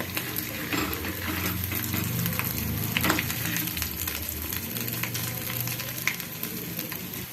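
Aloo tikki patties, browned on one side and just flipped, fry in a pan with a steady, dense crackling sizzle. The sizzle holds close and even throughout, with occasional sharper pops.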